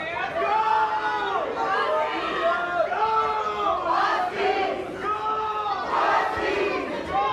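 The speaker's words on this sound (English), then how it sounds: "And here you can hear the Washington team cheering on their fighter." Team supporters at a college boxing finals bout cheer and shout for their fighter, a continuous loud crowd roar with raised voices and chanting-like calls throughout.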